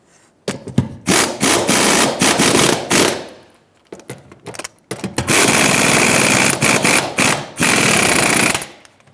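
Seat bolts on a 2003-2009 Dodge Ram 2500 driven in with a power impact tool, two long loud rattling bursts separated by a short pause, close up.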